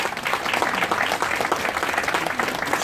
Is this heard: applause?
yes